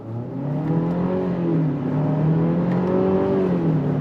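A 2025 Nissan Murano with a 9-speed automatic pulls away from a complete stop, engine note rising loud and close, then dipping and climbing again through the gear changes.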